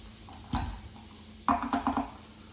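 Chopped carrots go into a pan of sausage tomato ragu: a single metal knock on the pan, then a quick cluster of utensil clinks and stirring scrapes over a faint background sizzle, close and fairly quiet.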